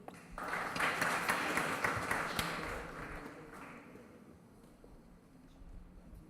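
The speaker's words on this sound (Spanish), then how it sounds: "Le brindamos un fuerte aplauso." Applause rises from a seated audience at a legal conference session, swelling quickly, holding for a couple of seconds, then fading away into quiet room tone.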